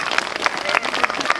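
An audience applauds maternity ward staff at a rally for the maternity unit in Apt, Luberon, clapping in steady, rhythmic bursts, moderately loud and close.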